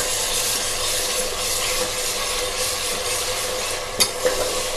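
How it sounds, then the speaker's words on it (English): Ginger garlic paste frying with onions in a pan for an Andhra village-style fish curry, giving a steady, loud, close sizzle throughout, with a couple of brief stirring knocks near the end. "add the ginger garlic paste to the onions, and we have to fry both of them until they get into a golden brown color."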